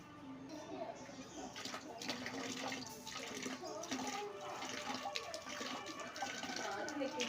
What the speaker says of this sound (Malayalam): ഇനി നമുക്ക് ഇച്ചിരി വെള്ളം ആഡ് ചെയ്ത് കൊടുക്കാം